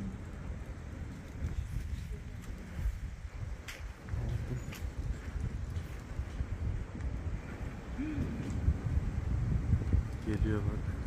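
Gusty storm wind in Germany buffets the microphone with a constant low rumble and rushing noise that swells slightly over time, with no clear voices.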